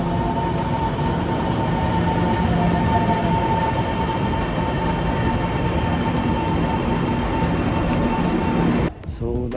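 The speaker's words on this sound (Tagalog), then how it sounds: "Samot-saring tren. Kung ano-anong tren tumadaan." A train rumbles past close by in Taiwan, a loud continuous roar with rhythmic wheel clatter, and a voice can be heard faintly over it.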